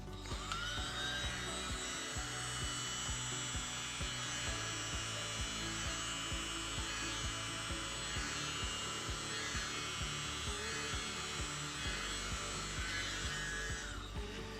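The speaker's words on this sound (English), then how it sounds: "I'll blow these out with my mini blower, and we'll see how we go." A small handheld mini blower runs steadily, a continuous high electric whine blowing air across CA-glued resin to clear surface bubbles, close and loud throughout with no talking.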